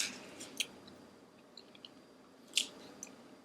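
A vegan deviled egg is chewed close to the mic. There are a few soft, moist squishes and one sharper bite crackle, set against quiet room noise.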